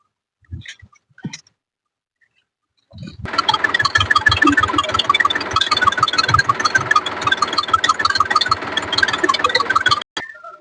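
A farm tractor engine idles and runs with a steady, chugging, close drone for about seven seconds, following a few brief knocks and near silence at the start.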